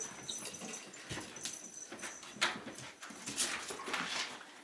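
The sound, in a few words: dog whimpering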